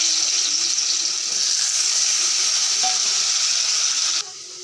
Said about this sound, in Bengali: এখন আলু কাটাগুলো দিয়ে দিচ্ছি।